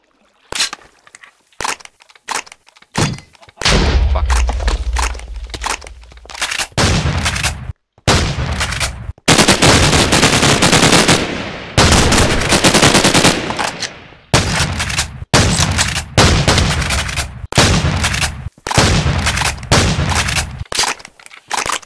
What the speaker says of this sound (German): Die Trenchgun haut ganz schön rein.